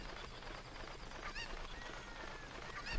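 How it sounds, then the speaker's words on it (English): Cucco chicken in The Legend of Zelda: Ocarina of Time giving a couple of short honking clucks, faint over steady game background ambience, no talking. "we're gonna take this chicken with us"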